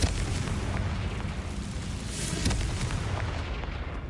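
A Confringo blasting spell explodes in Hogwarts Legacy, a loud broadband boom with scattered crackling pops that rumbles on and slowly fades.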